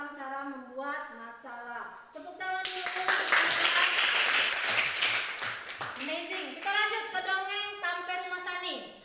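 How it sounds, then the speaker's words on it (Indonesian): A schoolroom class claps their hands together in a dense, lively burst that swells and then tapers, with children's voices calling out over it before and after. "Tepuk tangan dulu."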